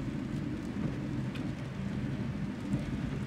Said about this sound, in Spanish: lo bueno es que está lloviendo